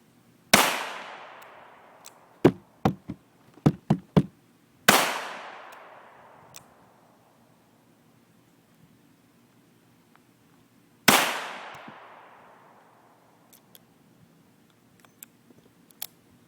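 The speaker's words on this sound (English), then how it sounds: "We're going to walk over to the firing line, and we're going to shoot these 3 rounds again" Three pistol shots fired at a paper target on an outdoor firing range, each a sharp loud crack with a long decaying echo, spaced seconds apart, with faint distant pops and clicks between.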